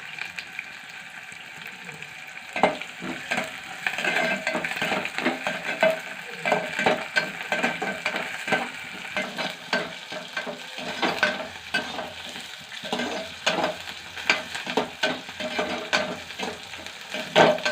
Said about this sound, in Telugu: కొంచెం ఆనియన్స్ ఫ్రై అయ్యేదాకా, అంటే రెడ్ కలర్లోకి రావాలి.